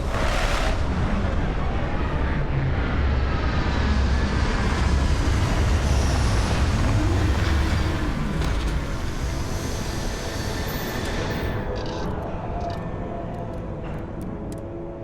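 A spaceship lands in the video game Starfield with a loud, sustained roaring rumble of engines and thrust that slowly fades and thins toward the end, with no voices.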